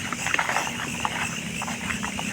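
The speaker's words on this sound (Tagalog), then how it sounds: "Okay, nakita ko ng kabayo." A horse clip-clops at night, its hooves knocking faintly and irregularly at a steady distance over constant background noise, with no talk.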